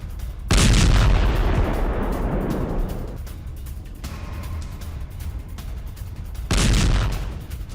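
Merkava battle tank fire in southern Lebanon gives two heavy booming blasts a few seconds apart, each with a loud onset and a long rumbling decay, the second as powerful as the first.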